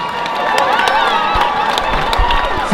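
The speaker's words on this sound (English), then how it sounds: "let's give a huge round of applause to these two warriors" A boxing crowd at the Magna in Sheffield cheers and applauds the two fighters after six rounds, a loud, dense roar of voices with scattered claps and whistles that holds steady throughout.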